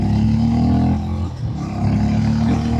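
A Harley-Davidson X440 T motorcycle engine pulls hard under acceleration, a loud, steady rumbling drone that climbs in pitch, dips briefly mid-way as if shifting, then builds again, close and continuous with no talking.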